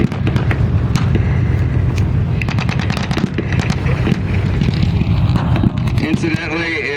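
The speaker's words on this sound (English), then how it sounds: "The Panzer III is firing at the Sherman" Panzer III tank firing at a Sherman during a World War II battle re-enactment, with sharp repeated cracks and bangs over a constant loud rumble of engines and crowd noise, under a commentator's voice.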